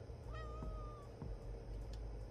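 A single drawn-out cat meow from the video game Animal Shelter Simulator, clear and fairly near, followed by a couple of soft thumps and quiet background ambience.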